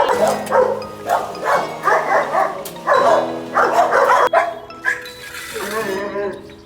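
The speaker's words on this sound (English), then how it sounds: "doing a concrete job at a dog shelter is there's dogs everywhere" Several dogs bark and yip repeatedly at a dog shelter during concrete work, loud overlapping barks in irregular bursts with some whimpering, nearby and filling the whole stretch.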